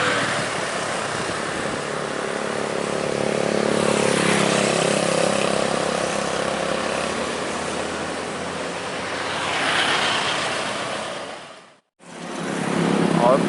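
A row of long-distance buses, including a Putra Pelangi Medan–Padang coach, racing fast along an Indonesian road: a broad, roaring rush that swells twice as vehicles pass close, then cuts off abruptly.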